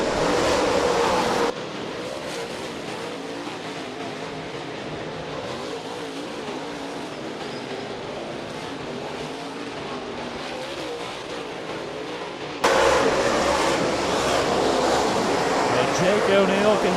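USMTS dirt track race cars roar around Rapid Speedway during a feature race, a steady dense engine drone that swells louder near the end as the pack passes close.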